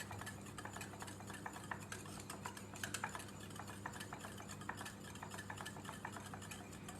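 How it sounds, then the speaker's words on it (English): A yogurt mixture being stirred to work out the lumps, a steady stream of soft, quick clicking and scraping, close but low in level with a faint background hum. "mix it so that there aren't any lumps"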